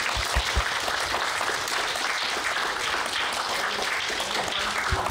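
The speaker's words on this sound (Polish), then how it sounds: "Jeszcze raz brawo." Audience applause at a youth nature film competition's final award gala, steady dense clapping from a crowd filling the room for about five seconds, with no one speaking over it.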